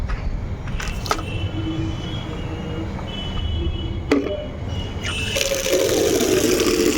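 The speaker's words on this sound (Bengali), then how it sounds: "গাছে জল দিয়ে দিই প্রত্যেকটা গাছ একেবারে কাঠ ফাটার মতো শুকিয়ে খড়খড়ে হয়ে গেছে" Water from a bucket is poured onto parched, dry potted plants, with a few clunks and knocks followed by a rising splash and gush of water onto soil near the end; close and fairly loud.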